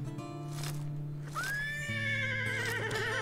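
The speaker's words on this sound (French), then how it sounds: "c'est moins reposant quand le cheval il hurle à la mort parce que j'ai accidentellement frôlé sa fourchette" Horse in a horse riding video game gives a loud whinny while its hooves are being cleaned, a rising and falling neigh over a soft steady tone, with faint hoof clops nearby.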